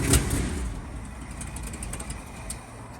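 A 1974 Ford F350 dually ramp truck engine runs in a low, steady rumble close by after a brief blip at the start, then settles to an even idle with no talk over it.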